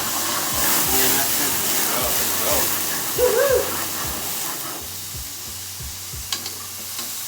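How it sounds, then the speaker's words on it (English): Tomatoes sizzle and fry in a hot pan in a home kitchen, a steady hissing crackle under a brief spoken word and some light clatter. "our tomatoes are sizzling away here"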